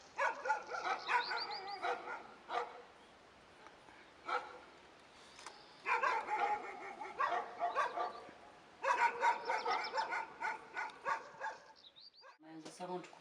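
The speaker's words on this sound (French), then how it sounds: "Toutes les nuits, il y a des concerts de chiens." Several dogs bark at night in clustered bursts at some distance, with yips and a few whimpers between, loud volleys separated by quieter pauses.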